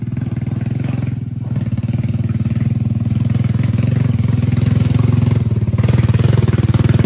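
A habal-habal motorcycle taxi engine runs steadily close by for the whole stretch, a loud, even, low throbbing hum with slight swells in pitch and no voices.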